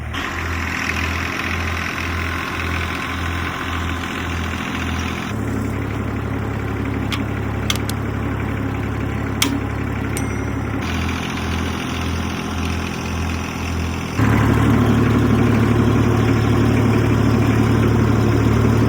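A 1962 Fordson Super Dexta tractor engine idles close by, a steady low diesel chug that shifts pitch and roughness a few times and picks up to a louder, fuller run near the end.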